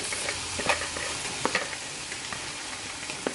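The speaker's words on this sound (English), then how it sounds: "so I'm just going to add the shrimps to this pot" Shrimp cooking in a pot for creamy shrimp Alfredo, a steady sizzling fry broken by a few sharp clinks and stirring knocks, close and moderately loud with no talking.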